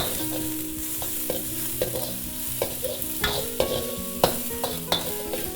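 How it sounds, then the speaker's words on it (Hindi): Vegetables with the white part of onions are tossed for fried rice in a pan on high heat: a bright, constant sizzle broken by repeated metallic scrapes and clanks as the food is flipped, close and loud. "अब इनको थोड़ी देर टॉस करेंगे। गैस को हाई हीट में ही रखेंगे।"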